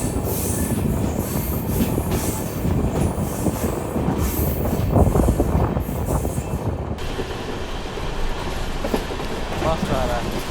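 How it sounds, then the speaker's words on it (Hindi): Train arriving at platform 1 of Ramanathapuram railway station, wheels rumbling and clattering with squealing metal, loud and close throughout, with voices faintly in the background. "अपनी ट्रेन आई है रामनाथपुरम रेलवे स्टेशन के प्लेटफॉर्म नंबर 1 पे"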